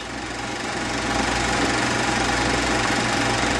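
A 1950 Allis Chalmers WD 45 tractor engine idles with a steady, dense mechanical drone and rumble throughout, ending in a brief louder clunk.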